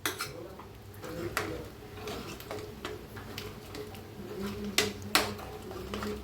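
Cooked chickpeas are mashed with a spoon in a pan over a low gas flame for chole, producing soft irregular taps and scrapes of metal on metal with a few sharper knocks.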